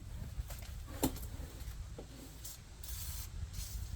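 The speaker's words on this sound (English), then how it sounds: "this is WD-40, it's not going to hurt anything" WD-40 lubricant sprays in short hissing bursts while an electric Trek Verve bike with a Bosch drive has its tire changed, the sprays spaced across a few seconds alongside some handling clatter.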